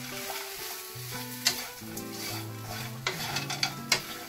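Pork sisig sizzles and fries in a pan while a utensil stirs it, giving a steady crackling hiss punctuated by a few sharp scraping clinks against the pan.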